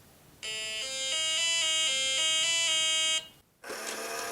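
A bright electronic jingle of stepped synthetic tones from an electronic board game's bazaar plays for a few seconds, cuts off, then another buzzy electronic tone starts.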